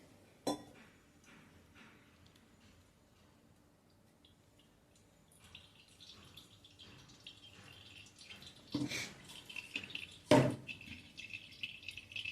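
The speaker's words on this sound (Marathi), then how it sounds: "आणि हे छान असं पिळून घ्यायचंय, म्हणजे मग नारळाचं दूध सगळं खाली आपल्याला पातेल्यात जमा होईल." Coconut milk dripping and trickling through a clean white cloth over a sieve into a pot for kokum-raw mango solkadhi, faint soft drips building to a few louder splashes near the end, no talk.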